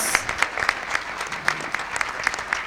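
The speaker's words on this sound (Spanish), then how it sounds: "Así le damos un fuerte aplauso al doctor Mazzarini" Steady applause from a symposium audience on natural cosmetics, honoring a doctor after his talk, with sharp claps crackling densely and evenly throughout at a moderately loud level, no voices over it.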